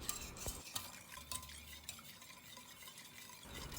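Stirring a custard mixture of sugar, starch and flour in a pot, with a steady scraping swish of the utensil and a few sharper clinks against the pan, close and alone without any voices.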